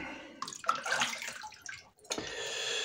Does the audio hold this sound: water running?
yes